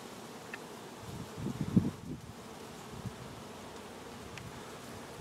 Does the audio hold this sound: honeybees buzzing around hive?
yes